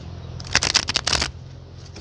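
Tarot cards shuffled by hand: a close, dense burst of riffling and flapping card noise lasting under a second, framed by quiet room tone.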